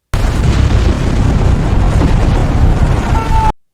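Artillery cannons firing on Omaha Beach along the Normandy defensive line during D-Day, heard as a loud, continuous roaring rumble of blasts that holds steady for about three and a half seconds before cutting off.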